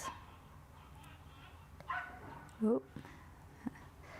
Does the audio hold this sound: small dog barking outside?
yes